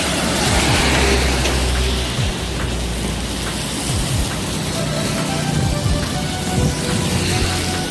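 Heavy rain pours under a railway bridge in Bumiayu, a dense, steady roar of water that stays loud and unbroken from start to end, with low rumbling underneath.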